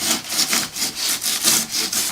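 A hand saw cuts through wood on a boat build, working down to the pine layer, with steady back-and-forth strokes at close range and about eight regular rasping passes, no talking.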